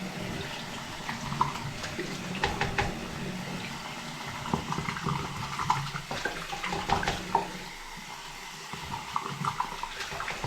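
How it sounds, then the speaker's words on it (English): Tap water runs steadily into a sink that is backing up, a continuous splashing rush with small clinks and bumps scattered throughout. "Step 2, run the sink to let it back up."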